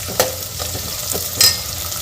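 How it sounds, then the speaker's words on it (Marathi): Onion frying in a pan for Maharashtrian masale bhat gives a close, even sizzle punctuated by a couple of quick spatula taps and scrapes. "आता यामध्ये आपल्याला कांदा घालून घ्यायचा आहे."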